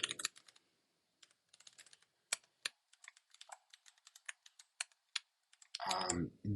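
Crisp keystrokes on a computer keyboard come in short irregular bursts and single clicks, close and clear against near silence, and a voice starts talking at the very end.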